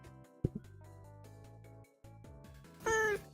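A streamer's stream-alert cat meow plays as a short, loud, tonal cry near the end, following a longer stretch of layered synthetic tones and a sharp click.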